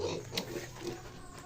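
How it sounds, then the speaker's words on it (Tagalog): Low pig grunts and snuffling at feeding time mixed with a noisy background, continuous over a short stretch with no clear pauses. "Papa nagpakaon sa baboy."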